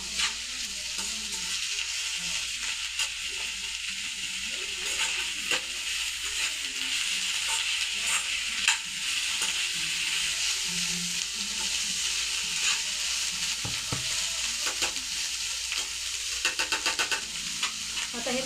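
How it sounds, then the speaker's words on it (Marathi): Tomatoes sautéing in hot oil in a pan for bitter gourd curry, a steady loud sizzle with occasional stirring scrapes running throughout, no talking. "आता याला पण चांगला परतून घ्या."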